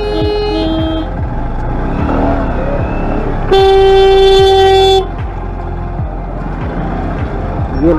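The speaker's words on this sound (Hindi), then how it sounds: "अब ये शहर का जो ट्रैफिक है ये शुरू हो चुका है" Busy town traffic on the road from Bijnor to Najibabad, with engines rumbling nearby and one loud, sustained horn blast for over a second amid the continuous traffic noise.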